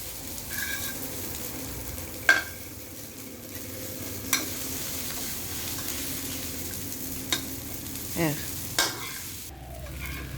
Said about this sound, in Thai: ตอนนี้ใส่ข้าวแล้วอ่ะคนเลยใส่ซอสแล้วด้วยเนาะ